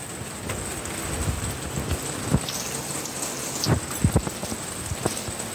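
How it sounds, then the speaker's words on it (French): Steady moderate rain at the tail end of a thunderstorm, with scattered close drips and faint thumps of weakening thunder and no voices. "on voit la fin de l'orage, qu'il n'y a plus trop d'activité électrique"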